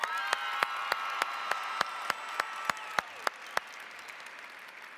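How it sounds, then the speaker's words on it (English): Applause fills a large hall at the opening session of the National FFA Convention for the band and chorus, a dense crowd clapping with a steady, regular beat of louder claps. "Another round of applause for our National FFA band and chorus."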